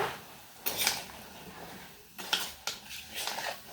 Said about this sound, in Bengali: এখন ভালোভাবে মশলার সাথে লাউগুলো নেড়ে ছেড়ে মিশিয়ে নেব।